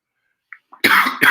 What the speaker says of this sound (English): I've got a horrible cough.